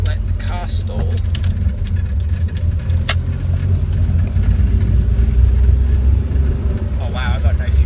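A car engine running while driving slowly around the block, a loud steady low rumble throughout with a few brief rattles and clicks, continuous and close.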